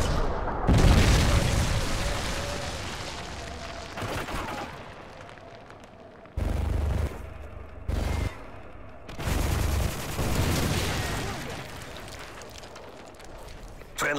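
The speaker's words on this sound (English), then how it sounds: "Friendly Predator missile inbound." Booming blasts and scattered gunfire sound off in a Modern Warfare 3 match on Outpost, arriving in separate loud bursts with quieter gaps between them, and a voice speaks during the clip.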